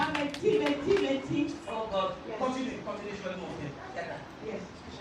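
A church congregation at a French-language Christmas service breaks into applause, quick clapping early on that carries under a preacher's voice as he keeps speaking.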